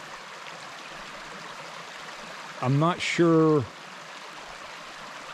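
Water runs along an old mill race near a small dam at the Cross Furnace site, a soft, steady rushing wash in the background while someone speaks briefly over it.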